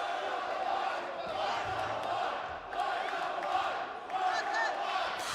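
An indie wrestling show crowd cheering and roaring in a busy venue, a steady wash of many voices with swelling pops of excitement throughout, heard alongside some nearby talk.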